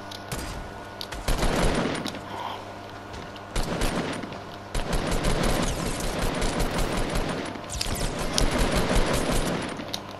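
Fortnite video game gunfire, sustained volleys and rapid automatic bursts across the whole stretch, loud and dense with brief gaps between bursts.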